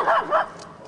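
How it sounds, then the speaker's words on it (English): Two quick, fairly loud dog barks, close together, from a dog in a corral at Lake Elsinore, California, with a quieter tail of sound after. "There's a dog right down below there that Jim's barking at"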